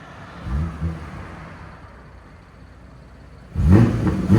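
A 2019 BMW M2 Competition with its 3.0L twin-turbo inline-six and exhaust valves open blips twice at idle, settles to a low burble, then erupts into a loud, deep rev near the end.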